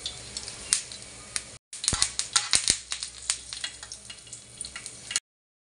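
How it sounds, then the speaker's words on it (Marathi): Fish frying in hot oil with crushed garlic and curry leaves, a dense crackling sizzle with sharp pops and spatters, briefly cut off, then resuming loud and busy. "फ्राय करण्यासाठी आपल्याला मच्छी आपण लसूण टाकून घेऊया ठेचलेले आणि कढीपत्ता सोबत"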